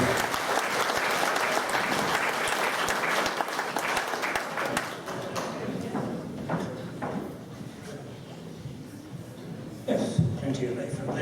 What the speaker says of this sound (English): Round of applause here on Myra on the piano.